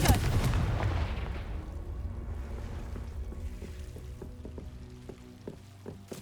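A Confringo fire spell from Hogwarts Legacy bursts in a loud booming explosion at the start, its rumble fading into a lingering tail with faint game tones and small crackles afterward.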